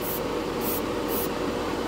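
Lacquer clear coat sprayed onto a test spoon over chrome: a soft, continuous airbrush-style hiss with three short brighter bursts as passes are made, quiet and without talk.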